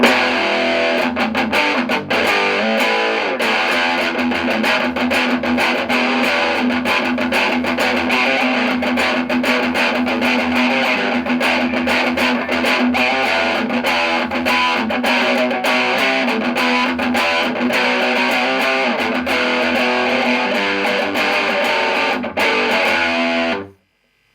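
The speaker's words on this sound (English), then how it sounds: "if you want more distortion, just knock up the gain to like 3/4 of the way" A heavily distorted electric guitar plays continuously at high gain, loud and buzzing, then cuts off abruptly at the end.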